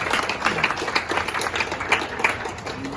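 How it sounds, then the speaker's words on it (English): A room of classmates applauds a student named Fina during a speech, brisk close clapping with distinct individual claps standing out in a steady patter. "Let's have a round of applause for Fina."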